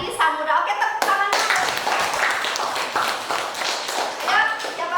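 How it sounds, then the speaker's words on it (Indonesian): Students in a classroom clap their hands together in a burst of applause lasting several seconds, close and lively, with voices mixed in. "Oke, tepuk tangan."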